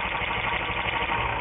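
Volkswagen Eurovan engine idling rough with one spark plug wire pulled, a steady close mechanical drone with uneven low pulsing and no talk.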